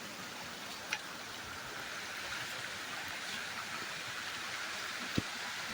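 A small waterfall in Malad, Mumbai pours in a faint, steady wash of rushing water, distant and uninterrupted, with a couple of soft clicks.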